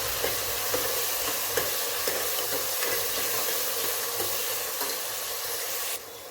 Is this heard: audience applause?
no